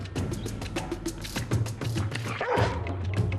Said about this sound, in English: This is not a very secure dog.